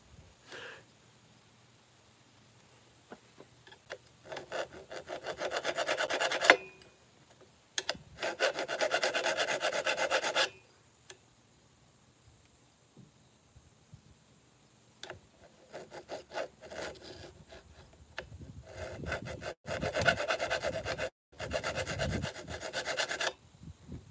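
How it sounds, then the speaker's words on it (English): Metal file rasping back and forth across the brake posts of a BMX bike frame: several bursts of steady, close scraping strokes, separated by short pauses, with no talking. "Paul, now I'm filing my brake posts to keep it smooth."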